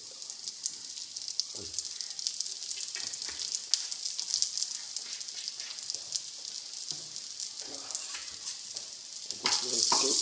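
Dry fish frying in hot sunflower oil with onion and chilli flakes, giving a continuous dense sizzle and crackle, close and steady, with a few stirring scrapes and a louder burst of spitting near the end.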